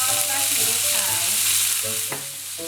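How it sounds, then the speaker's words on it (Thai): Bean sprouts stir-fried in hot oil for a Chinese oyster omelette, a loud, steady close-up sizzle with scraping stir strokes and a clatter near the end, no talking. "ต่อไปแม่จะมาผัดถั่วงอกก่อนนะคะ น้ำมันร้อน"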